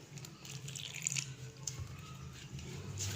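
Water trickling in small additions into flour for mint paratha dough, a soft intermittent dripping and splashing with a few brief louder drips, close by and without speech.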